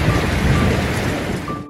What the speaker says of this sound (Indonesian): hanya suara guyuran air dan sambaran guntur yang tiada henti